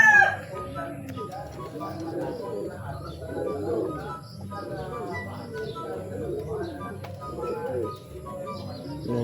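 Racing pigeons coo and murmur in soft, repeated bursts close by, with a faint rooster crow in the background and quiet talk mixed in.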